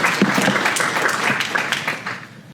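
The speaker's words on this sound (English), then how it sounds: "Let's give him a round of warm applause." Enthusiastic applause from a crowd, dense and steady clapping that fades slightly toward the end.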